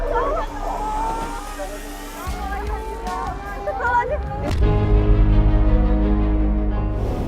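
Ambulance engine droning steadily from inside the vehicle, with a heavier low rumble building near the end, under voices talking throughout.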